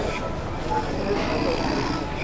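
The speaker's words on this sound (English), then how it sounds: "It sounds like he's snoring." A man passed out on the floor of a Walmart store snores steadily for a couple of seconds, a continuous raspy breathing drone with a busy store ambience behind it.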